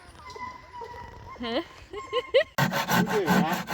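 Hand sawing of wooden boards for a rabbit cage, rhythmic back-and-forth rasping strokes that grow louder and denser toward the end, with voices talking over the earlier part.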